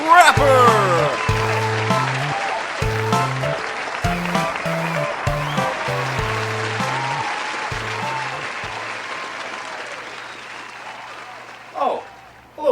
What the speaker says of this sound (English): please give a big round of applause for your host